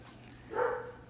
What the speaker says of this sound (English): Excuse my dog because he's an idiot.